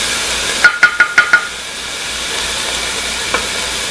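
Chicken browning in a hot pan for tortilla soup gives a steady loud sizzle throughout, with a quick run of five metallic knocks early on and one more later.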